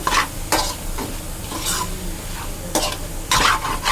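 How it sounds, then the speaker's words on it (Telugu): Chili powder and masala fry for a mutton curry, a steady close sizzle punctuated by several sharp stirring scrapes of a spoon against the pan at irregular intervals. "ఇప్పుడు వీటిని కూడా బాగా వేయించుకోవాలి ఈ పచ్చివాసన పోయేంత వరకు"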